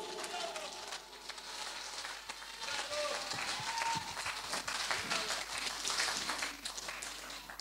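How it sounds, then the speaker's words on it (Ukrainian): An audience applauds a vocal trio at a Ukrainian Unity Day concert: steady, dense clapping fills the hall throughout, with a voice heard briefly near the start. "вокальне тріо Олександрівського центру культури та дозвілля ваші оплески!"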